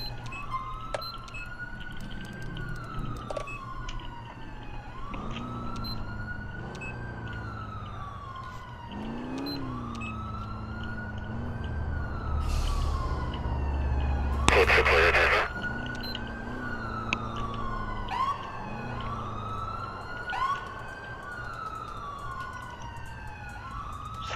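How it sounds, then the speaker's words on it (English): Police sirens in the video game GTA IV, wailing up and down in repeated sweeps throughout with overlapping siren tones, under a running engine drone and brief radio chatter, with a burst of noise in the middle. "So many goddamn sirens."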